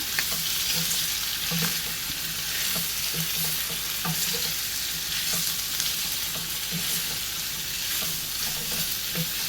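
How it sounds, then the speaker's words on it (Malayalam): Spiced ivy gourd pieces sizzle in oil in a pan while being stirred, a continuous loud frying hiss broken by regular scraping strokes, with no voices. "കോവയ്ക്ക ഇതിലേക്ക് ഇട്ട് കൊടുക്കാം. നല്ലോണം ഇളക്കി കൊടുക്കാം."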